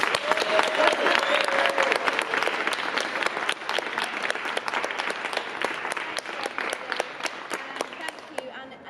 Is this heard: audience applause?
yes